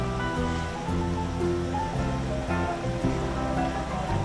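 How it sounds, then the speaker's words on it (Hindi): Chicken and chickpea curry bubbles at a steady boil in a pot over a moderate flame, a dense continuous simmering rumble close by, no talking. "सालन पकना शुरू हो गया, उबाले आना शुरू हो गए हैं"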